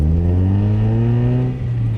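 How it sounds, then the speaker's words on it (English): A Mazda Miata with an aftermarket catback exhaust rumbles with a deep, throaty exhaust note that rises slightly in pitch as it revs, loud and close. "it has a aftermarket exhaust. It's a catback exhaust with no brand on it"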